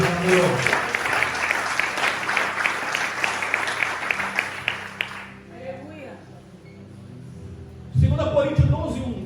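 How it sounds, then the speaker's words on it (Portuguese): A church congregation applauds during a worship service, a full burst of clapping for about five seconds that cuts off into near quiet before a voice and other sound return. "Dá uma salva de palmas para esse Deus."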